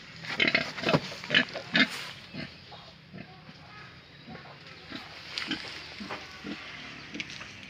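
Pigs grunt on a farm where sows are kept. Close, repeated short grunts come in a quick cluster at first, then continue more sparsely over a constant pen background.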